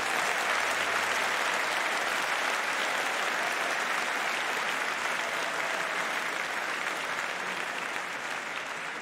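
A large audience applauds graduates at an engineering faculty commemoration ceremony, dense continuous clapping that holds steady and loud from start to finish in a big hall.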